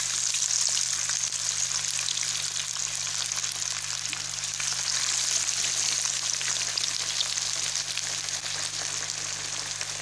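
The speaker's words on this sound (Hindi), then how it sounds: "अब मैं वो वाली फ्राई कर लेती हूँ।" Fish coated in masala frying in oil produces a loud, even, continuous sizzle that holds steady from start to finish, with no voices.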